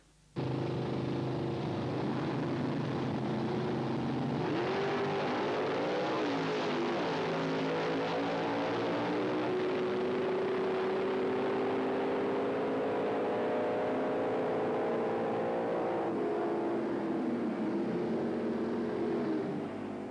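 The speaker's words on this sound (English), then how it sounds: "one more look at John Friel's Hemi Dart in action at the Dutch Classic" A 1968 Hemi Dart race car's V8 engine roars and revs at a drag race, pitch climbing through gears as it accelerates hard, loud and continuous from start to finish.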